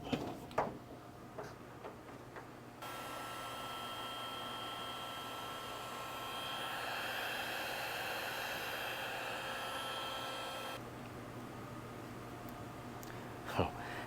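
A Milwaukee heat gun blows steadily for several seconds while softening vinyl wrap on a 2000 Honda Civic Si, a constant close airy whoosh starting and stopping abruptly, with a few faint clicks around it.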